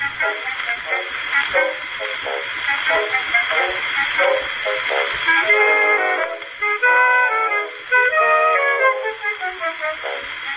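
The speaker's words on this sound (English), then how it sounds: "The sound you hear is an excerpt from Funeral March of a Marionette" Old, thin-sounding recording of Gounod's Funeral March of a Marionette, with a bouncy melody on woodwinds and strings over a narrow band, sounding like a scratchy retro radio broadcast.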